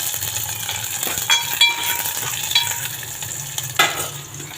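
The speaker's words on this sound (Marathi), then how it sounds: "तेल तापलं आहे त्याच्यामध्ये मी लसूण मिरची कांदा थोडासा कढी पत्ता" Garlic, green chili, onion and a few curry leaves sizzle steadily in hot oil, with a spoon scraping and clinking against the pan now and then over the continuous frying hiss.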